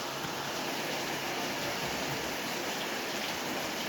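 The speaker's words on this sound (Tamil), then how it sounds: "ஸோ வெளியே மழை பெஞ்சிட்டு இருக்குது" Steady rain pouring outside at a Valparai homestay, a dense, even hiss with no breaks, fairly loud and continuous with no voices.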